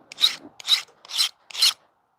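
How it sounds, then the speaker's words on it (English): Hoof trimming knife being sharpened with a file, four distinct rasping strokes in an even rhythm, close and clear with no talk. "we're almost done with this ridiculous sharpening business"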